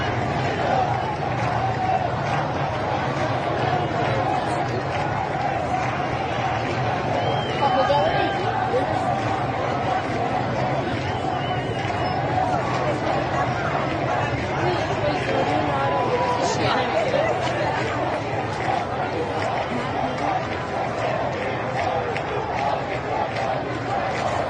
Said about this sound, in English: we also were able to hear protesters and revolutionaries chanting that this is the final battle and Pahlavi will